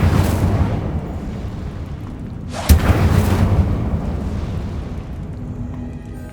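An Incendio fire spell is cast in Hogwarts Legacy, a sharp, loud fiery burst erupting midway out of a steady rumbling roar, then fading into a lingering crackling rush.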